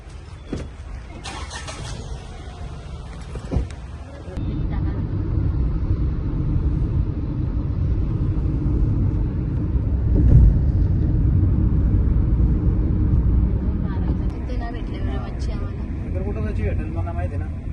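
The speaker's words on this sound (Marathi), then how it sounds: "गाडी काढतो आणि निघतो घरी जायला" A car engine starts and settles into a steady rumble as the car pulls away, loud and close after a short quieter stretch, with people talking over it.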